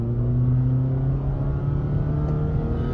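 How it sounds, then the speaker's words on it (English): A Honda City fifth-generation ZX CVT petrol car pulls forward in second gear after a paddle-shift downshift. Its engine holds a steady, loud, droning hum with a faint rise in pitch, and no talk is heard. "I'm accelerating right now, downshifting the gear to 2."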